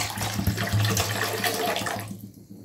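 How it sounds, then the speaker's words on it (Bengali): Water pours steadily into a wok to boil cauliflower, a close, continuous splashing rush that fills most of the moment before cutting off, heard alone without talk. "ফুলকপি সিদ্ধ করার জন্য কড়াইয়ে জল ঢেলে দিলাম।"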